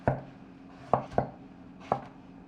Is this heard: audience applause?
no